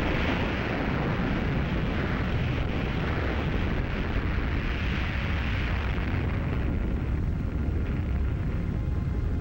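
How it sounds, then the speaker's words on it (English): An atomic bomb detonation at Bikini Atoll during Operation Crossroads gives a loud, continuous, roaring rumble that holds steady for the whole stretch with no voices. "Operation Crossroads, conducted at Bikini Atoll, detonated two bombs."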